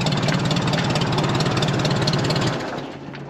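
A 1957 Ford Powermaster 841 tractor engine runs with a loud, rapid low chugging rhythm that abruptly cuts out near the end, leaving a faint hum.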